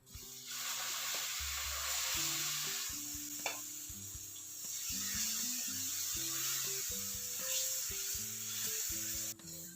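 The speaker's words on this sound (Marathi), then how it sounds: "डोशासाठी तयार केलेलं पीठ तव्यावर घालून घ्यायचं" Steady sizzling hiss of dosa batter on a hot griddle, with soft background music playing throughout.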